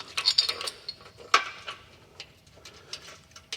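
Provided hardware is threaded up through a spacer between a Jeep Wrangler JL frame and a sway bar mount during a 3.5-inch suspension lift install, with faint metallic clicks and ratcheting ticks coming in uneven bursts, close and fairly quiet.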